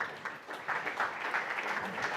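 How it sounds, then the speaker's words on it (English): Conference audience applauding, a short burst of fairly soft, blended clapping heard at a distance and fading slightly toward the end. "Ladies and gentlemen, give them a big round of applause."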